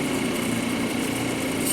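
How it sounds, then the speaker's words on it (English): A stone cabochon is pressed against a spinning grinder wheel, producing a continuous steady whirring grind at close range, brief and without talk. "the narrow area is going to grind a lot faster than the wider segment here"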